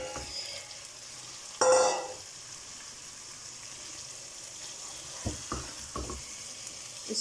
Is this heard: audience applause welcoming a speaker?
no